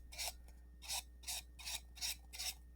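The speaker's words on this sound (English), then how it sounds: "So just sanding the edges of this thing." An edge of an Estes Big Bertha model rocket part is being sanded with six even, rhythmic rasping strokes, close and fairly quiet, with short pauses between strokes.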